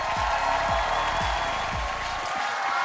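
A Korean TV studio audience applauds as three parents are brought on stage, an even wash of clapping at moderate level throughout, with low thumps underneath.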